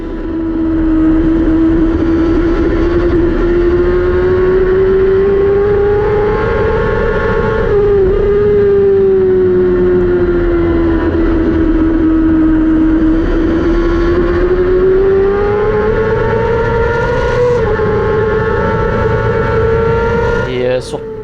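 A race car engine held at full throttle drones loudly and continuously, its pitch rising and falling slightly through the corners, up close and with no pause.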